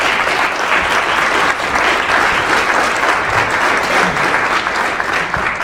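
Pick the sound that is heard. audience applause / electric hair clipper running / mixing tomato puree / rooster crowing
audience applause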